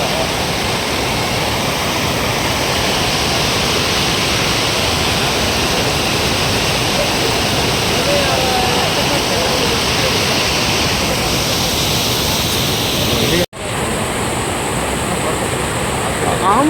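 Floodwater rushes and overflows after record heavy rain of about 50 centimetres, a loud, steady roaring wash of water that runs unbroken apart from one brief cut near the end.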